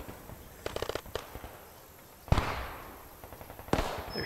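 Gunfire in Call to Arms Gates of Hell, a World War II battle game: two sharp loud reports with crackling tails over a background of faint scattered distant shots and rumble.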